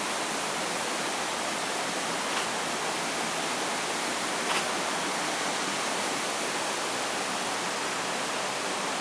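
Swallow waterfall along a road trip route from Michigan to Maryland pours steadily, a dense, even hiss of falling water filling the air at close range with no voices over it.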